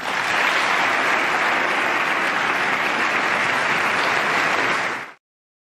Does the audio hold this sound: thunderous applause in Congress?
yes